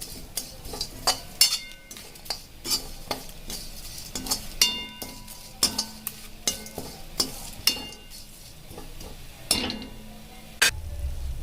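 Masala for a country chicken curry being stirred in a pan, with a spoon repeatedly scraping and clinking against the metal in an irregular rhythm over a faint, steady sizzle, close up and without speech.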